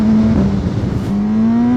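A Suzuki GSX-R 1000 motorcycle accelerates hard, its engine note climbing, dipping sharply at a quick-shifter upshift and rising again, loud and close.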